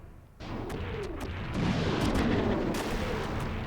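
Tank missiles fire in the Front Mission III tactical video game, a loud continuous rumbling barrage of booms and blasts with sharp bursts layered over it, sustained throughout with no talk.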